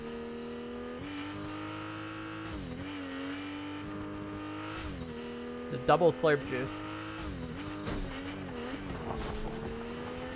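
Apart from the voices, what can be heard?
car driving in Fortnite video game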